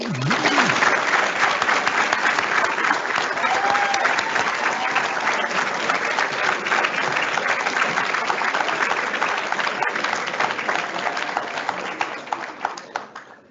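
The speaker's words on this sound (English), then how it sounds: "Please give yourselves a round of applause." Loud, sustained applause from a large audience at the close of a white coat ceremony, continuous dense clapping that carries on for several seconds before tapering off near the end.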